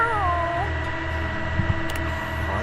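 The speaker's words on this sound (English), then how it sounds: "meowing for his attention" A black cat creature in the video game Date Everything meows in a gliding, rising and falling call over a steady tonal game music bed, close and fairly loud.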